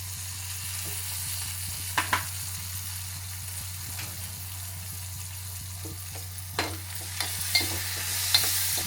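Prawn curry masala with tamarind pulp sautéing in oil in a pan, a steady close sizzle with occasional stirring scrapes and clinks, no talking.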